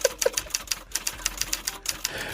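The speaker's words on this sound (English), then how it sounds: "What are you typing?" Rapid, uneven mechanical clicks and clacks of a stenographer keying on a stenotype machine in a courtroom, close and fairly loud, firing in quick irregular bursts with no speech over them.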